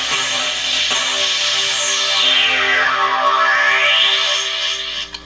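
Heavily processed electronic tone run through an effects unit and mixer, with distortion, delay and chorus-like sweeps rising and falling over a steady buzzing drone, loud and continuous with no voices.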